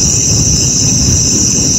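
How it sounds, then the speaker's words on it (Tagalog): Crickets chirp loudly and without pause at night in a dark grassy field with trees, making a dense, high, steady trill. "Puro kuliglig lang talaga, tsaka mga maririnig mo."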